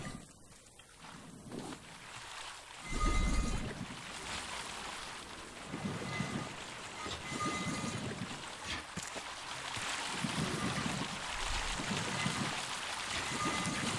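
Water pumped and pouring in the survival game Raft, a rushing splash that swells and fades in repeated surges over a steady ambient wash, with no talk.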